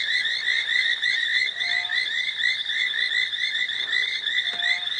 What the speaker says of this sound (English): These frogs are deafening.